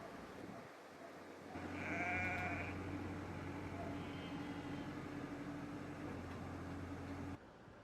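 Sheep and lambs bleat on a mountain farm at evening, a few wavering calls rising over a steady low mechanical hum that runs through the scene.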